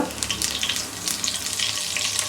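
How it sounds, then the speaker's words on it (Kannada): Chana dal frying in hot oil with curry leaves added crackles and sizzles close up, a busy, fairly soft spatter with small bursts as the leaves hit the pan. "ಕಡಲೆಬೇಳೆ ಎಲ್ಲ ಚೆನ್ನಾಗಿ ಫ್ರೈ ಆಗಿದೆ ಅಂದಾಗ ಸೊ ಕರಿಬೇವನ್ನ ಹಾಕೊಳ್ಳೋಣ"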